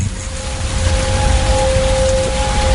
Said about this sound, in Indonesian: hujan turun dengan deras